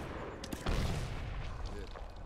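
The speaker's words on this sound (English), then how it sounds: "Mortar inbound. Mortar inbound." Incoming mortar fire in Medal of Honor (2010), a sudden heavy impact rumbling over continuous battle noise, with voices talking throughout.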